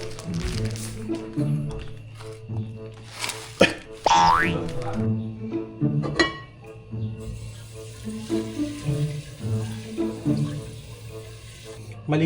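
Water runs from a tap and splashes into a large cooking pot, mixed with clinks and clatters nearby.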